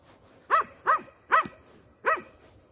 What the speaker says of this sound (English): So there is a dog who don't like us.